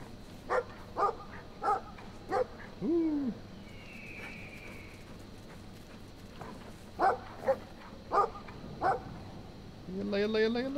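A dog barks repeatedly in short, spaced bursts within the Brothers: A Tale of Two Sons video game, mixed with game ambience and other creature calls and rising tones near the end.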